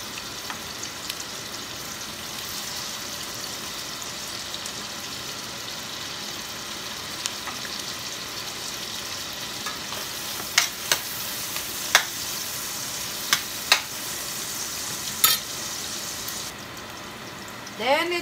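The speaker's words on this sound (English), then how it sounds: "let's cook now the onion" Onion sizzles steadily in a hot frying pan for tofu with mixed vegetables, a continuous hiss broken by sharp clicks and taps of a utensil near the end.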